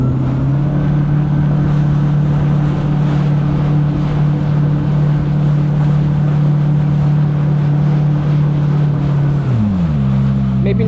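A jet ski runs over the Atlantic Ocean, its engine a loud, steady, close drone with wind and water rush that dips in pitch near the end.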